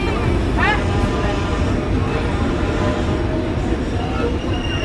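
A train pulls into Ishwardi railway junction in Bangladesh, a loud steady rumble of rolling wheels with a brief squeal early on, under a person talking.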